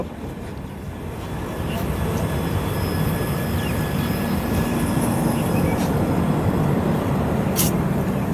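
The Sairang–Kolkata express rolls into Azimganj station with a loud, continuous rumble and clatter of wheels that swells within the first two seconds and holds steady, with faint squeal and some background station noise.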